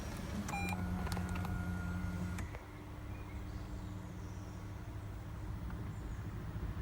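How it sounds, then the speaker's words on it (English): A 2017 Lexus LC 500h Sport+ hybrid V6 coupe switching its ignition on inside the cabin: a few short, clear electronic chime tones over a low steady hum, then the hum continues alone. "So let's go ahead and put that ignition on."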